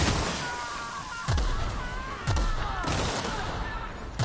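Gunfire in The Outer Worlds video game, several sharp shots spaced about a second apart over a busy layer of background game sound.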